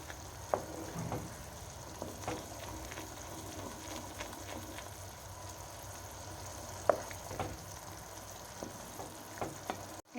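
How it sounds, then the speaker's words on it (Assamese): Butter melting down into homemade ghee in a pan, a continuous soft bubbling sizzle with scattered small pops and spatters, close and steady, no voices. "বাবুল উঠোঁতে খালি লক্ষ্য কৰিব যাতে গাত চিটিকি নপৰে।"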